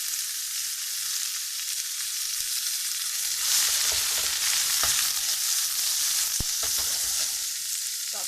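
Garlic and kumara fry in a hot pan with a loud, continuous hiss that swells midway, and a few sharp clicks of a utensil sound close by.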